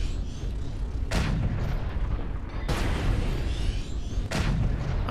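A mech's ballistic gun fires in MechWarrior Online, three heavy booming shots spaced about 1.5 seconds apart over a dense rumbling battlefield background.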